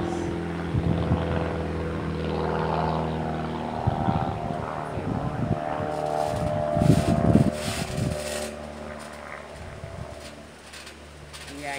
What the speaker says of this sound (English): And now I got like a helicopter or something going over my house.